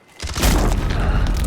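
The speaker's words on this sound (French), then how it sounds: "Grenade flash lancée." A flash grenade detonates in Call of Duty MW4 gameplay, a loud sudden boom that swells into a sustained, rumbling roar and ringing wash lasting over a second, with no talk.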